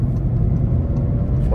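Volkswagen Virtus 170 TSI automatic, 2023, accelerating at full throttle to overtake on a highway, with a strong, sustained engine roar heard from inside the cabin.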